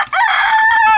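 A rooster crows loud and close in one sustained, harmonically rich call, with birds that beg for food nearby outdoors.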